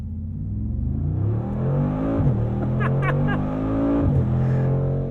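The 577-hp V8 of a 2021 Mercedes-AMG G63 revs and accelerates with its exhaust baffles open in Sport Plus mode, a deep, loud, rising rumble with shift breaks around two and four seconds, heard from inside the cabin.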